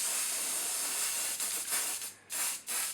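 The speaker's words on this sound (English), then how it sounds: "I'll just seal that with a further spray of the hairspray" Close aerosol hissing as a hairspray can is held down continuously, then released and pressed again in several short bursts.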